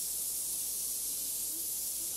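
A paint gun sprays a steady, even hiss of paint onto a guitar body, close and constant throughout with no pauses.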